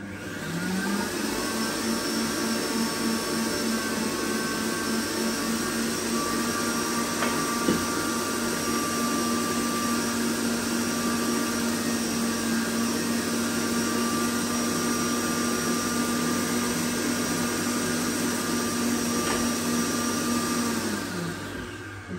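An electric mixer with a whisk attachment drones at a steady, even pitch as it briefly whisks eggs for a spiced apple walnut cake, starting and stopping cleanly.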